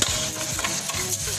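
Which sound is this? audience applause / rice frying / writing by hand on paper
rice frying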